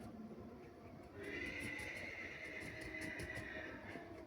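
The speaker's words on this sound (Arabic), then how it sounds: "دايما صوت الحصان اهو." A horse whinnies in a long, high, wavering call that rises out of a low background rumble, fairly faint and distant.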